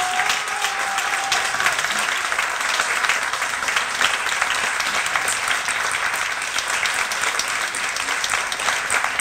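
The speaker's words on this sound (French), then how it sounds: "Je voulais déjà vous demander si vous pouviez applaudir tous les bénévoles qui nous ont permis d'organiser" An audience at the close of a daylong event on bipolar disorder and creativity applauds the volunteers who organised it, a dense, steady wash of many hands clapping throughout, fairly close and loud, with no talk over it.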